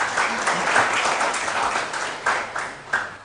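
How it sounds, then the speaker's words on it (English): A quiz show audience of secondary school students applauds contestants with brief, moderately loud clapping that comes in a few uneven swells. "Let's clap for them."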